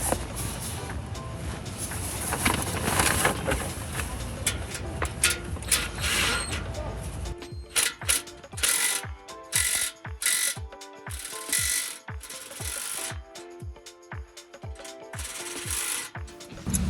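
Ratchet wrench snugging a 2.5-inch exhaust clamp on a 2015–2021 Dodge Challenger 3.6L V6 cat-back exhaust, a steady run of close, crisp clicking strokes after some scraping and rubbing, with no talk.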